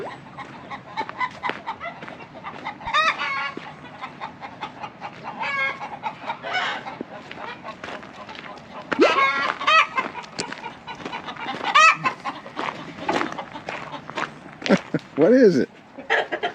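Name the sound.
unhappy chickens clucking in the morning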